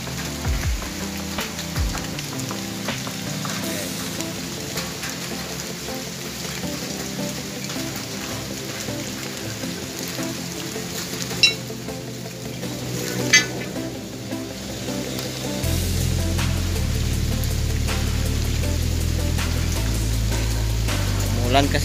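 Steady rain pours down, heard from a waiting shed during work, a continuous broadband hiss with occasional louder drops; a low droning hum grows stronger in the latter part.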